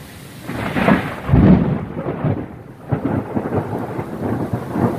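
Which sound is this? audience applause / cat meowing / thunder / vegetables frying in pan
thunder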